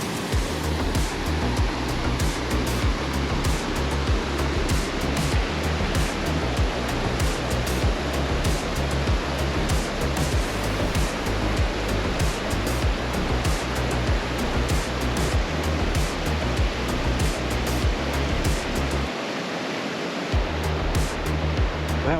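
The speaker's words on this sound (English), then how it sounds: "That was the Big Thompson River, aka the pool." The Big Thompson River in Rocky Mountain National Park rushes near Castle Rock, a constant loud roar of churning water that holds steady throughout, close and with no voices.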